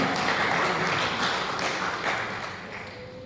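Church congregation clapping together in a broad, steady wash of hand claps, loudest at first and gradually thinning toward the end, with no voices over it.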